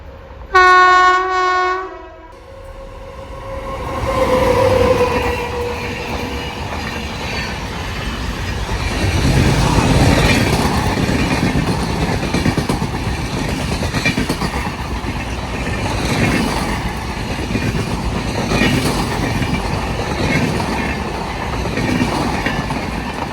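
The Mandovi Express, running from Madgaon to Mumbai, passes a trackside spot at Suravali: a short, loud horn blast opens, then a long, heavy rumble with rhythmic clickety-clack of wagons rolling by close.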